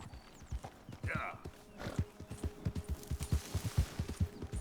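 Horse hooves clip-clop in a steady walking rhythm in the video game Red Dead Redemption 2, moderately close, with a voice speaking briefly over the hoofbeats and other game sounds.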